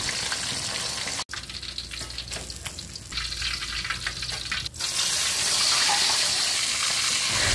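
Tilapia fries in hot oil with a dense, continuous crackling sizzle, broken by a couple of brief sharp pops and shifting in intensity, growing fuller toward the end.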